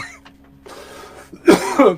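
A single loud, close cough bursts out after a stretch of quiet room noise and a soft breath.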